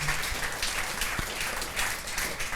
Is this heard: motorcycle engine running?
no